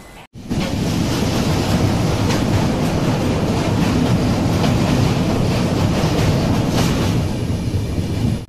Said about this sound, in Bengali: নির্ধারিত সময় থেকে 10 মিনিট আগে ট্রেন এসে পৌঁছালো মালদা টাউনে।